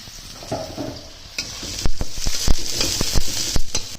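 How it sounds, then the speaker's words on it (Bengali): Onion frying in oil with fennel seeds, bay leaves, green chilli and ginger: a loud close sizzle punctuated by repeated spatula stirs and scrapes against the pan. "পেঁয়াজটা ভাজা হয়ে গেছে"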